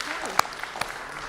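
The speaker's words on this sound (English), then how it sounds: "Let's give Melanie another round of applause" An audience at a live talk event applauds: a brief, diffuse wash of clapping with a few distinct claps, heard under a speaking voice.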